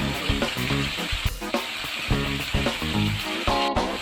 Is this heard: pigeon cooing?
no